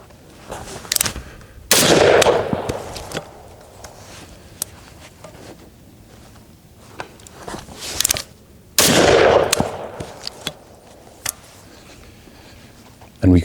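An FAL rifle fires during shooting drills, with two loud, sharp shots and bursts a few seconds apart, echoing close by amid handling noises and a voice talking.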